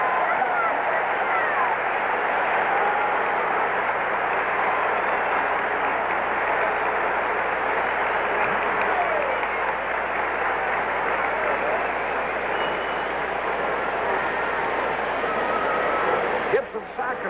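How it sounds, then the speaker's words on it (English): Large baseball stadium crowd at the 1968 World Series in St. Louis roaring in reaction as Bob Gibson comes up to bat, a broad, steady wash of cheering and babble sustained for the full length. "Listen to the reaction from the crowd as Bob Gibson comes up."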